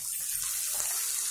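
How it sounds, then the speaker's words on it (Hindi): Water poured into a cooking pan to make gravy, a soft steady pouring wash with no voices. "ये हमने डाल दिया पानी,"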